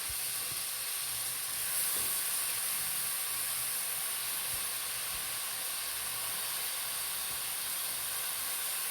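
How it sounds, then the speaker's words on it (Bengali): Leafy greens added to a sizzling spiced masala in a pan for a fish curry, giving a continuous loud hiss and crackle of frying that holds steady throughout. "এখন আমি বাকি জিনিসগুলো এখানে এই যে শাকগুলো দিয়ে দিচ্ছি।"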